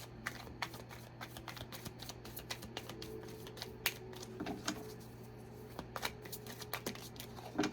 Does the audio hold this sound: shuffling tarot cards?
yes